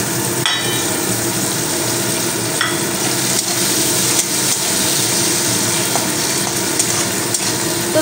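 Khesari peas fry in oil in a pan, a continuous dense sizzle and crackle with occasional clinks of stirring, steady and close.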